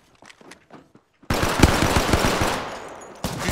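Rapid bursts of automatic gunfire aimed at the player in a shooter video game, suddenly loud and sustained for a couple of seconds after faint earlier shots, then briefly stopping and resuming.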